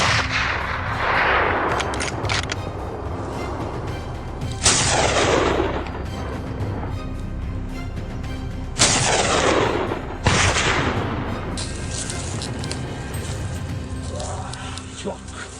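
Gunfire rings out during a wild boar hunt from a helicopter, several sharp reports and bursts cutting through a constant loud rotor roar, with voices speaking over the noise.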